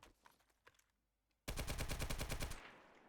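A gun fires in the zombie survival game 7 Days To Die: one loud, fast automatic burst of about ten evenly spaced shots that cuts in abruptly after a few faint clicks and stops cleanly about a second later.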